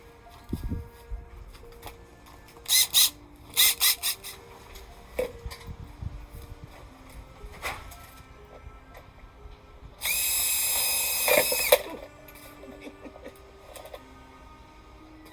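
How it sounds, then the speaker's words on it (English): Power drill boring a hole outdoors, with short whirring bursts, then one longer steady run of about two seconds near the end, among quieter clicks and handling noises. "I'm just going to bring my drill out here."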